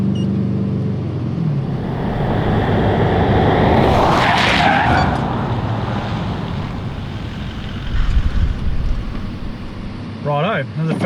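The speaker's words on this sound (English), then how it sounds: "Up to 80k an hour, which is the speed limit, then on the brakes from the cone." A 4x4 braking hard from 80 km/h to a stop, tyres skidding in a rising broadband screech mid-clip over continuous road and engine roar, with brief talk near the end.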